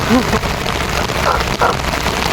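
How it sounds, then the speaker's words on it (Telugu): Rain pouring steadily during a temple visit at Bhimashankar, a dense continuous hiss of drops on surfaces, loud and close, with no pauses. "ఆల్రెడీ వర్షం కూడా పడిపోతుంది"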